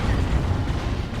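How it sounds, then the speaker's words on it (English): D-cannon singularity blast in the strategy game Dawn of War 2, a brief, loud, rumbling deep roar with dense low-end crackle. "This is a singularity here from the D cannon."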